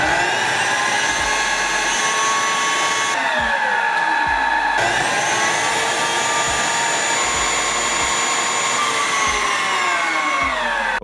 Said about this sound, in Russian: Самочистка происходит в несколько этапов и напоминает цикл работы стиральной машины.